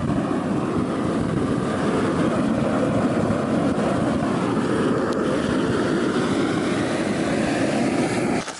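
The burner fire of a homemade aluminum furnace roars steadily and loudly up close, a constant broad rushing rumble with no talk over it.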